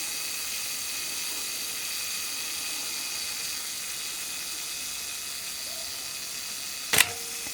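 Steady faint hiss, then near the end a brief sharp mechanical click-and-whir as the shutter of a Pentax MX 35mm film SLR trips at the end of its self-timer cycle, close and crisp.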